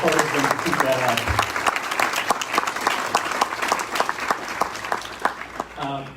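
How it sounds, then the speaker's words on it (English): An audience in a room at a community breakfast claps in sustained, dense applause for visiting senators and a Cape delegation, with voices mixed in over the clapping. "please give them a round of applause"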